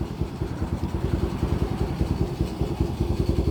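A Honda Navi motorcycle's small engine runs at idle close by, a steady rapid low chugging putter with an even pulsing rhythm and no voices.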